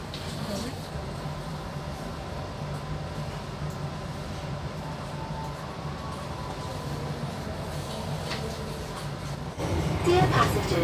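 Inside the Argo Cheribon passenger train heading toward Tegal Station, a steady low rumble of the running carriage fills the space, growing louder near the end, while a voice talks over it.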